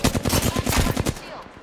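Automatic gunfire from the video game Apex Legends, a close, loud, rapid burst of even shots that ends after about a second and a half.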